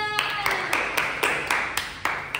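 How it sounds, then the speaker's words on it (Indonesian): Group clapping in a classroom teaching session: about nine sharp, evenly spaced claps in a quick steady rhythm, close and fairly loud, with no talk. "tepuk tangan untuk kita semua"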